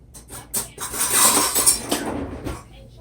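Rummaging for a big spoon in a home kitchen: clinking cutlery and rattling metal utensils, a quick flurry of close clatters and chinks that rises and fades, with no talking.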